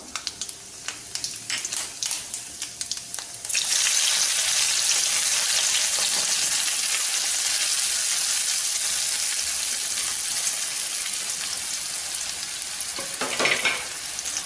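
Mustard seeds and cumin hit hot oil and break into a loud, dense sizzle that stays steady, with a faint spattering crackle. Light tapping comes before the burst begins, and the fry for an egg masala continues alone without voices.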